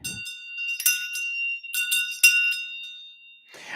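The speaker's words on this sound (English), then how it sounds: "and the shang bell." A Tibetan shang bell rings with bright, metallic clangs that sustain in a shimmering tone, struck a few times close up in an otherwise quiet space.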